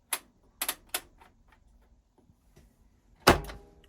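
Door of a Miele WS5073 professional sluice washer unlatching: three sharp clicks, then a louder, ringing clunk as it comes open, close by and with no talk.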